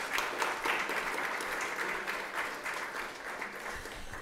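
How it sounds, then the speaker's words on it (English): Audience at an annual review event giving themselves a round of applause: continuous, even clapping from a room full of people, moderately loud and steady throughout. "please can everyone give yourselves a round of applause."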